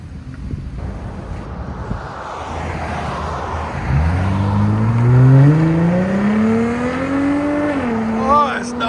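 A Jeep Gladiator's 3.6L V6 with its muffler deleted idles roughly, then revs up hard, the raw exhaust rising steadily in pitch and dropping back, loud and close with wind buffeting the microphone.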